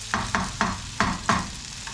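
Shrimp sautéing with garlic over high heat in a pan, stirred in five evenly spaced bursts of close sizzling over a steady frying hiss, with no talk.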